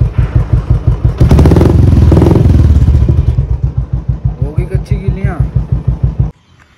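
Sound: Royal Enfield Bullet motorcycle engine revving

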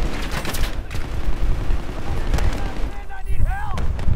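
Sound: explosion in video game Battlefield 3

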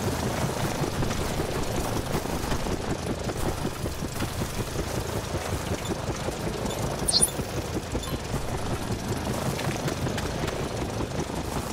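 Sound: helicopter engine in a dinosaur hunting video game

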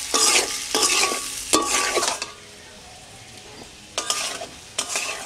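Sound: amla pickle spices being fried and stirred in a pan

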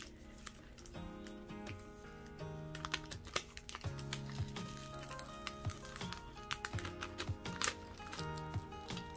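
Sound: Sticker being peeled off a glassine envelope, ripping paper

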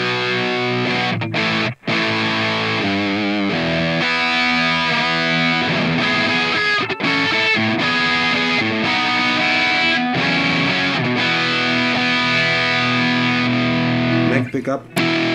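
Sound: distorted electric guitar, PRS bridge humbucker pickup through amp modeler

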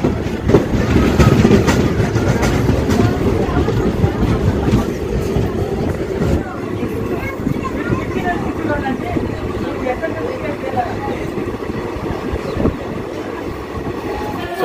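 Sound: DEMU train departing Prasannapalli railway station

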